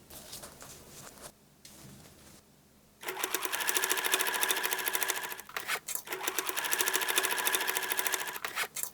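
Sewing machine stitching a pocket onto a shoulder bag made from old jeans, soft handling noises first, then loud rapid close-up needle chatter in two bursts with a short pause between.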